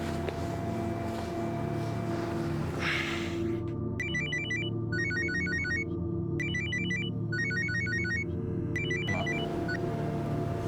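Telephone ringing with a repeated electronic ringtone, several bursts of chirping tones over a steady low rumble and background ambience, no voices.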